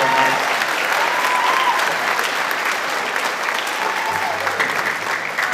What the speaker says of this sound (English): Please give him a round of applause for helping keep this PAC wonderful and nice